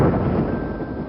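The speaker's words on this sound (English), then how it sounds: "The rumbling thunder is just the soundtrack to a life in a new world." Low, continuous rumbling thunder rolling steadily at moderate loudness, a dense broadband roar with no distinct claps or voices over it.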